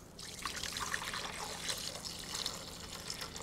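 Tap water runs into a container over almonds for homemade almond milk, a steady splashing fill lasting a few seconds with no talking.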